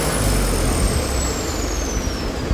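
A Tata 407 turbo diesel engine driving a 30 kVA generator rumbles steadily and loudly at close range, with a high turbo whine that slowly falls in pitch as it winds down for shutdown.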